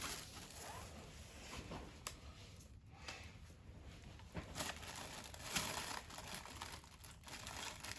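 Aluminium foil handled and crinkled during a resin art project, a soft, continuous rustling and crackling up close with a few louder crinkles, no one talking.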